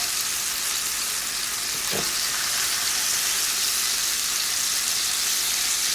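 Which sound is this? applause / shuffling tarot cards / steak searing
steak searing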